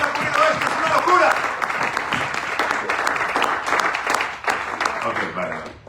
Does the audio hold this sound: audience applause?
yes